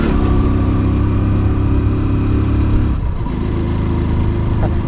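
A motorbike engine runs steadily and loud throughout while riding on a hill road in Yercaud, a continuous close droning hum with a slight dip in pitch and level near the end, no speech.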